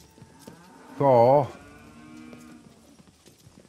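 A cow in the video game King Arthur: Knight's Tale gives one loud, clear moo of about half a second, close by over quiet background game sounds. A voice says a word briefly.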